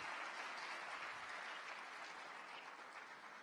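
A crowd applauds the Prime Minister at a youth summit closing ceremony, dense even clapping sustained throughout, fairly faint and slightly distant, easing a little toward the end.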